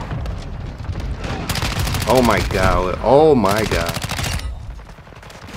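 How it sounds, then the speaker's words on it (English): Rapid automatic gunfire in the Warzone 2 video game, loud sustained bursts with a brief pause, while a man exclaims over it. "His bullets flying everywhere, man."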